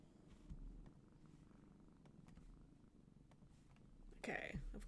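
A cat purring while resting on a person's lap, a soft continuous rumble close to the microphone with faint background noise and a brief louder sound near the end.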